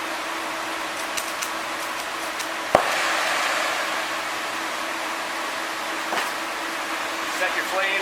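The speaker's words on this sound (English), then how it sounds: "Fire the torch up using the acetylene first, your red hose" An acetylene welding torch being fired up for lead welding on industrial batteries, a sharp pop of ignition followed by a steady broadband hiss of the flame over a background hum.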